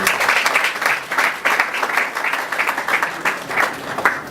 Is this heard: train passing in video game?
no